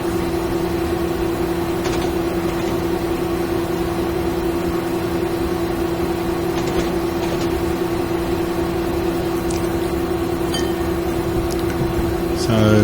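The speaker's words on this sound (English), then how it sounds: "That's our train." Steady low engine drone and rumble of a train running in Train Simulator 2016 on the line toward Northallerton, constant and continuous with faint clicks and a brief rise near the end.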